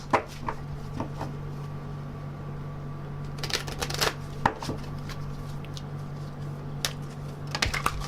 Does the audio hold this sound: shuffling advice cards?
yes